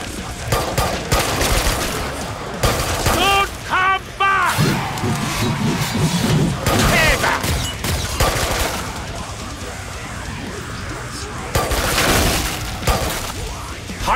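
Sustained automatic fire from a high-tech gun in Killing Floor 2 on Hell on Earth difficulty, dense rapid bursts with shattering impacts and chaotic game effects, loud and continuous across the whole stretch.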